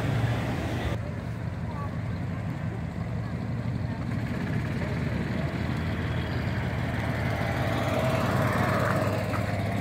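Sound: Lincoln Mark II cars driving past

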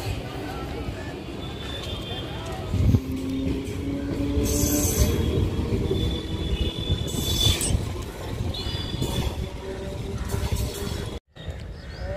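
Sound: train departing Kotma railway station for Ambikapur

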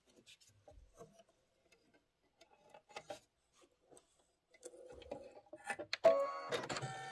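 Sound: embroidery machine stitching

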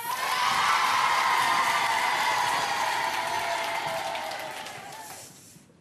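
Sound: audience applause for a theatre performance

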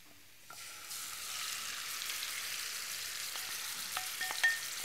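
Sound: marinated chicken sizzling in hot oil

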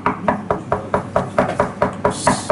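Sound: knocking repeatedly on a door

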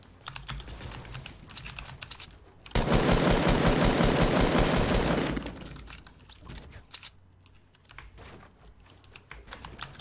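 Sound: gunfire from the video game Fortnite

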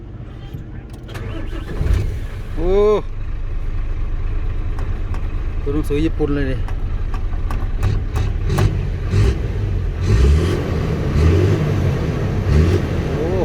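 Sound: Isuzu dump truck diesel engine starting, revving

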